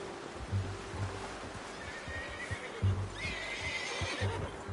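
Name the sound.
horse neighing in a video game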